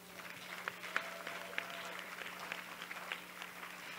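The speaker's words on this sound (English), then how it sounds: "let's give them a huge applause" Distant, faint applause from a pitch night audience, a continuous patter of clapping with a few sharper claps standing out over a low hum.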